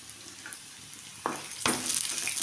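Chopped beetroot sautéing in a pan for chutney, soft sizzling with a couple of sharp stirring scrapes and a brief louder burst of frying near the end, no talking.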